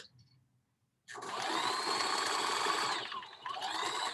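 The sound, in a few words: sewing machine stitching fabric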